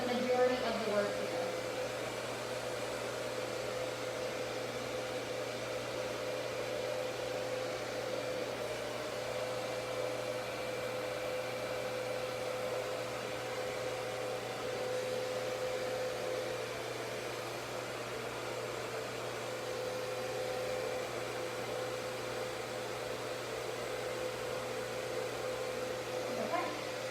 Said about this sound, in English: You really just want to let your blow dryer do the majority of the work here.